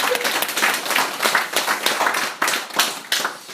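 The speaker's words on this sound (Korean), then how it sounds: "우리가 청년부한테 우리 큰 박수로 한번 격려하겠습니다" Church congregation at an early-morning service applauding with dense, lively clapping that swells in bursts throughout, close and alone without speech.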